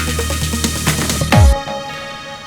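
Moog Subsequent synthesizer with an EQ fade-in and effects, a dense swelling tone with rhythmic pulses, then a sharp downward pitch sweep around the middle and a sustained, shimmering tail that slowly thins out.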